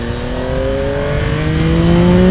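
A 2024 Yamaha MT-09 motorcycle fitted with an acoustic amplifier intake revs steadily upward, its engine note climbing in pitch as it pulls through the rev range, loud and close with no talking.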